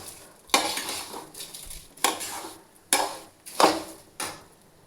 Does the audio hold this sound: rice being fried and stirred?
yes